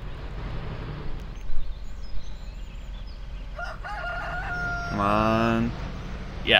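Chickens at a coop in Farming Simulator 2013 give a rooster-like crow and clucking calls, moderately loud over constant low engine rumble and game noise, with a few thumps earlier.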